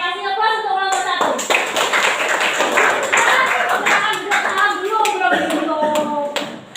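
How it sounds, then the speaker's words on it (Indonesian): A classroom group claps loudly and continuously for several seconds in an Indonesian school setting, with scattered voices talking over the applause. "kasih aplaus untuk kelompok 1"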